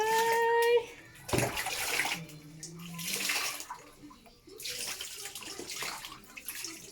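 Water splashes and pours from a basin into a tub for a bath in uneven bursts, with a voice and other voices talking quietly alongside.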